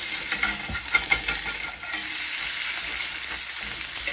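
Steady, close sizzle of a sandwich toasting in a hot frying pan, with small scrapes and clinks from a utensil stirring and pressing it.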